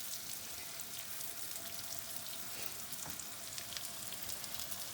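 Steady crackling sizzle of mushrooms frying in butter in a hot pan, dense and continuous with scattered sharper pops, no voices.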